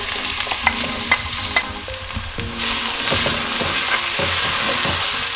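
Onions hit boiling cooking oil for a Pakistani-style chicken and chickpea curry, crackling and scraping at first before a loud, dense sizzle swells and holds steady, close up with no voices.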